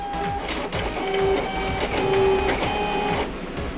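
A Silhouette Cameo 3 cutting machine runs close up, its stepper motor whirring in short tonal bursts of shifting pitch over a steady mechanical hum, with rhythmic clicks as the carriage moves back and forth.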